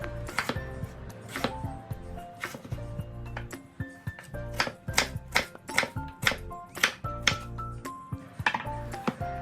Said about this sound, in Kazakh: осылай видеодағыдай майда етіп төртпіштетіп турап шығамыз